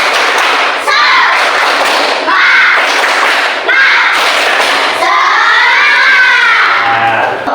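A school class performs a rhythmic spirit clap, with loud bursts of clapping in a regular beat and children's voices chanting and shouting along in a lively room.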